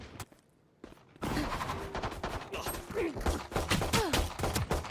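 Rapid gunfire bursts in the tactical shooter game Valorant, loud sharp shots packed in quick succession after a brief quiet start, with small game sound effects mixed in.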